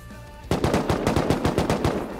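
An AK rifle fires explosive ammo in the video game Rust. A loud, rapid automatic burst of evenly spaced shots runs for nearly two seconds, close and alone.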